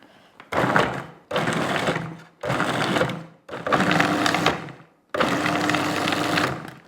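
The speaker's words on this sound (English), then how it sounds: "now I'm going to pulse it until it resembles fine breadcrumbs" A food processor pulsing butter into a flour crumble mix for an apple and rhubarb crumble: five loud, close bursts of whirring motor, each about a second long, separated by short silences.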